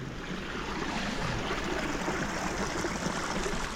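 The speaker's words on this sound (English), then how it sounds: "I need to record these creek sounds for my thingy" A continuous rushing wash of flowing creek water, steady and fairly close, with no voices.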